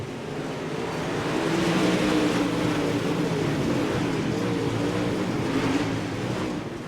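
Dirt track race cars at Pevely roar down the back straightaway to turn three, a loud, sustained blend of engines holding a steady drone with slight swells as the pack passes.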